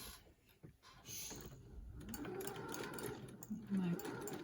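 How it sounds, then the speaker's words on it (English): A sewing machine stitches fabric squares into four-patch quilt blocks, running in a steady, close mechanical whir at a slow, even pace, with a person talking over it. "I'm going to sew it nice and slow and easy."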